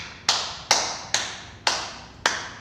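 Five separate hand claps at a teacher training session in Medan, evenly spaced about half a second apart. Each is sharp and close, with a short room echo and no talking between them.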